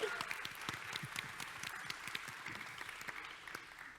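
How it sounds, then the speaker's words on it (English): An audience at a conference session claps warmly, a fairly quiet, steady spatter of many hands heard from a distance, with a faint murmur of voices underneath. "So please give them a warm round of applause."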